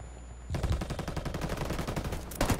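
Sustained automatic gunfire in Ghost Recon Wildlands starts abruptly and rattles on in a rapid, loud, close stream of shots for about two seconds, with a heavier burst near the end.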